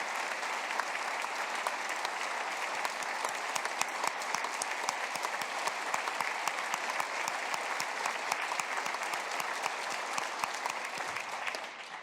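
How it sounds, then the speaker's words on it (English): Lawmakers and guests in the state Capitol chamber applaud Senator Castleberry during the governor's State of the State address, a long, even wash of many hands clapping, moderately distant and unbroken. "you got to clap for her."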